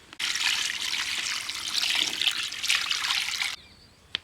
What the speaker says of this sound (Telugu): 2 జగ్గుల వాటర్ వేసుకోవాలి